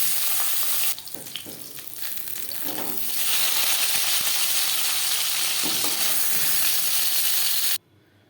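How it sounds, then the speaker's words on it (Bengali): Fish fries in hot oil with a loud, dense crackling hiss that swells after a few seconds, with a few faint clinks early on, before cutting off abruptly near the end. "পরের মাছ একইভাবে ভেজে নেব।"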